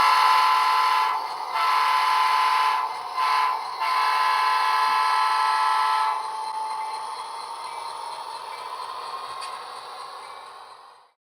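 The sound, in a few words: model locomotive horn and departure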